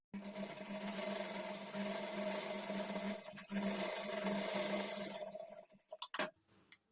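Close, steady whirring of a sewing machine stitching a patchwork blouse back neck, running continuously for several seconds before slowing into a few separate clicks and a stop, with no voices.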